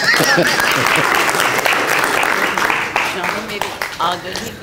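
Audience applause fills a literary gathering at a tea house honoring the poet Jaun Elia, a dense, steady round of clapping that stays loud and close before thinning slightly toward the end.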